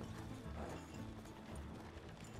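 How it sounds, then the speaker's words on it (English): Horses pulling a wagon in Red Dead Redemption 2, hoofbeats clip-clopping over a low rolling rumble of wheels, moderately faint and continuous. "Slow down, you'll burn out the horses."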